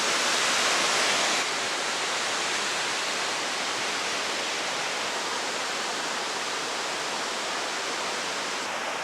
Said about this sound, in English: So much water's pouring down that you see a big cloud of mist emerging from the waters